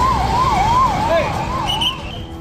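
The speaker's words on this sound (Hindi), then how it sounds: "एम्बुलेंस के सायरन की गूंजती आवाज" An ambulance siren wails loud and close in Kashmir after the Pahalgam terror attack, its pitch sweeping up and down in repeated cycles over rumbling traffic and background noise.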